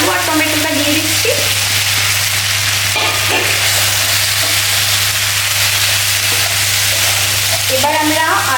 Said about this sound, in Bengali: এবার আমি আলু আর টমেটোটা দিয়ে দিচ্ছি